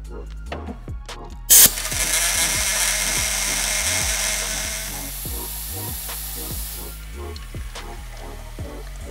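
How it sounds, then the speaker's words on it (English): Shop compressed air hisses in a loud continuous blast through an air fitting into an oil filter, lasting several seconds over repeated rhythmic mechanical clicks in a workshop. "Now I'm gonna get this air fitting and blow shop air through."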